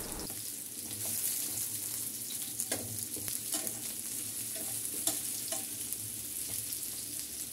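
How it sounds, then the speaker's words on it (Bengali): Potato pieces frying in a pan, a constant sizzle with scraping and stirring clatter from a spatula every second or two, heard close up with no talking. "আমার এই ফ্রাই প্যানে আমি আলু ভেজে নিচ্ছি"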